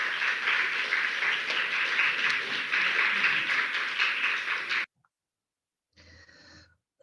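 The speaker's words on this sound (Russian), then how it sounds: "Аплодисменты, пожалуйста." Audience applause at a ceremony honouring cadets, a dense, steady wash of clapping for about five seconds that cuts off abruptly, followed by silence and a brief faint patch of sound near the end.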